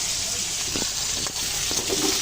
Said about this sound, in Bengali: তো মাছগুলো আগে ভেজে নিচ্ছি